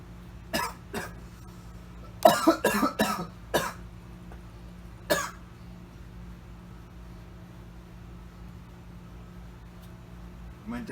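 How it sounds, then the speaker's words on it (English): A person coughs in a short, fitful burst after something went down the wrong pipe, on top of an existing cough, with a few isolated hacks around a cluster of rapid, close coughs over a low steady hum. "Didn't help that I already have a cough."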